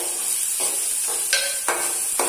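Ginger, garlic and chilli paste fries in a pan for stuffed brinjal, a steady close hiss broken by a few scraping stirs, with no one talking.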